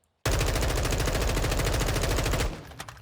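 Sustained burst of M4 assault rifle automatic fire from Call of Duty: Modern Warfare II, a loud, rapid, even stream of shots lasting over two seconds before cutting off into a brief tail.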